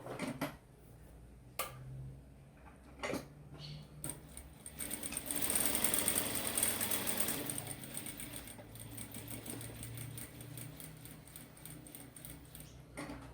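A sewing machine stitches slowly around the rounded paw of a plush dog toy, with short runs of mechanical whirring, scattered clicks and a longer, louder stretch near the middle, heard close and alone.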